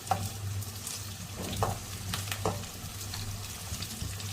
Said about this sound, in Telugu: ఉల్లిపాయలు కొద్దిగా దూరగా వేగాక మనము మళ్ళీ మసాలాలు వేసుకున్నాము